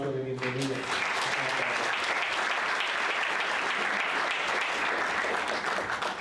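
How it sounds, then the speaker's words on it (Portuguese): Warm welcoming applause from a university audience greeting guest speaker Carlos Walter Porto Gonçalves at UPS, a dense steady roar of clapping that swells quickly and holds loud throughout, with a brief voice at the very start. "para quien pido un caluroso aplauso de bienvenida"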